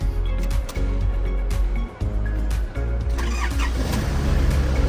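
A 2006 Nissan Urvan 3.0 diesel van engine cranks with a few uneven surges, then settles into a steady, close, low rumble.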